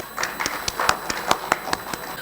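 Scattered handclaps from an audience at an exhibition event, around a dozen distinct claps spread unevenly over a couple of seconds, moderately close with a murmur of room noise beneath.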